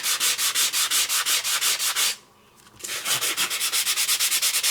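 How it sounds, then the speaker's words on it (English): A tool scrapes rhythmically across an embossed paper craft surface cut with ornamental dies, a fast run of even rasping strokes, a brief pause, then the strokes resume at the same close, steady pace. "I'm going to continue scraping this thing."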